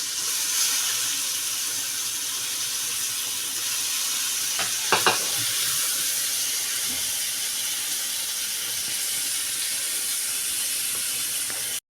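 Potatoes for a capsicum and potato bhaji sauté in a pan with a steady hiss of frying, broken by a few brief clinks and scrapes near the middle.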